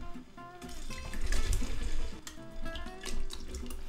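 Raw potato slices drop into a pot of hot frying oil, giving loud, bubbling, spattering sizzles that surge and fade in uneven bursts, with no talking.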